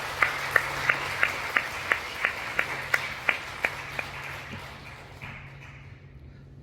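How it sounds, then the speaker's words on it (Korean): Worshippers in a church give a round of encouraging applause for a praise-team member, heard as evenly spaced, rhythmic unison claps, about a dozen in a row, that gradually soften and fade out over a low background hum. "우리 힘찬 응원의 박수 한번 하시자고요"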